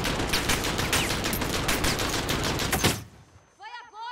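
Grenade explosion in Call of Duty, a dense burst of rapid crackling blasts and rattling debris lasting about three seconds, then an abrupt drop to a faint high whine and brief chirping tones.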